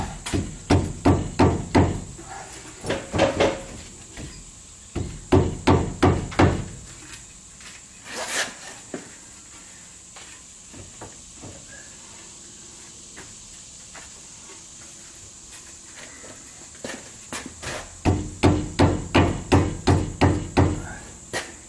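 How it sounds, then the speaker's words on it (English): Bursts of rapid, heavy hammer blows on metal ring out in several rhythmic volleys, separated by quieter gaps with faint clanks. "I'm going to get a hammer and I'm going to pound on the outside of the drum there"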